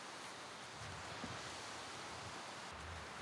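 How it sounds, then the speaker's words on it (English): Gusty wind of up to fifty miles an hour sweeps across a rural road in Maine in the fall, a steady broad roaring rush with no voices. "It's a little 50 mile an hour gust like they said there was gonna be."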